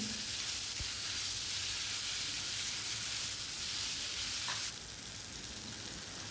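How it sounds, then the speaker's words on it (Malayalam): Onion, green chilli and tomato sauté in a hot pan, a steady dense sizzle that holds close and even throughout, easing slightly near the end, with no voices. "തക്കാളി ചേർത്തുനിന്ന് വഴറ്റിയെടുക്കാം"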